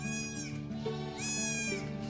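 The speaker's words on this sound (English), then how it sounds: "I think this is a male goat." A male goat bleats twice, close and clear, with wavering nasal cries separated by a short pause.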